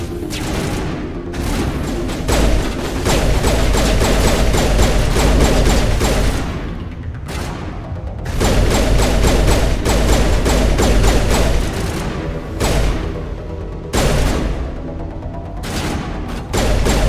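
Sustained bursts of rapid gunfire from combat in the video game Mass Effect Legendary Edition, loud and dense, with short pauses between volleys and heavy booming impacts mixed in.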